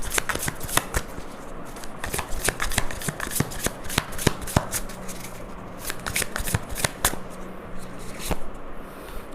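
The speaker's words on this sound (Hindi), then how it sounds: "tarot cards" A deck of tarot cards is shuffled close up, with rapid riffling bursts and sharp flicks repeating steadily throughout.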